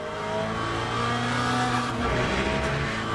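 LMP2 prototype race cars in Le Mans Ultimate drone past with a steady, loud, high-revving engine whine and layered tonal harmonics. The sound stays continuous and does not form a single distinct pass-by.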